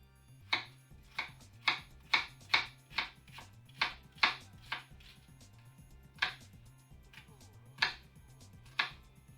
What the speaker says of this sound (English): we're going to take about a quarter of an onion and chop it up